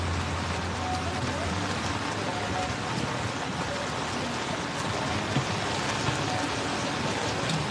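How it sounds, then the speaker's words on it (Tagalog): Heavy rain pours down in a steady, dense hiss that never lets up, with faint voices somewhere underneath. "Lakas ng ulan."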